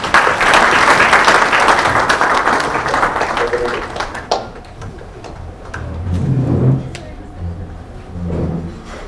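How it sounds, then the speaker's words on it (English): An audience at an inaugural session of an air cargo conference bursts into dense applause that fades after a few seconds, leaving scattered claps and low murmuring. "maybe give a round of applause to him."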